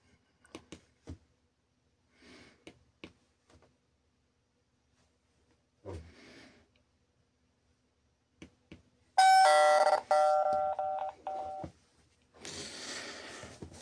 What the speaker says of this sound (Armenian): սեղմում ենք զանգի կոճակը